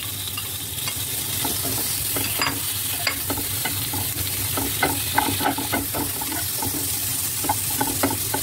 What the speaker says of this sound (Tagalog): After nating isaute, maglagay tayo ng ating tomato.